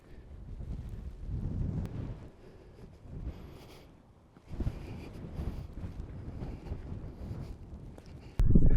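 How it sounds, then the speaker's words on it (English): Gusty wind buffets the microphone at an Iron Age hill fort at sunrise, with low, rumbling bursts that rise and fall, strongest near the end. "It's quite windy today"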